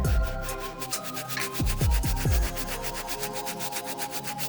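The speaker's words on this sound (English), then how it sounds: "use the soft bristle brush on the entire uppers of this material" A soft bristle brush scrubs the leather uppers of Nike Low Dunk sneakers, giving a steady close rubbing and swishing with a few heavier strokes near the middle and no talking.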